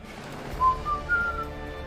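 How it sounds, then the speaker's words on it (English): A person whistles a short Skyward Sword melody, three clear, close notes rising and falling over a low steady background hum. "I shouldn't whistle."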